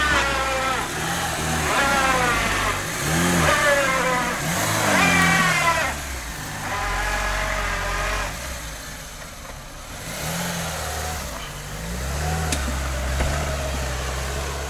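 A car engine revs up and eases off repeatedly while driving, rising and falling pitch sweeps close and loud, with a steady low rumble between throttle bursts.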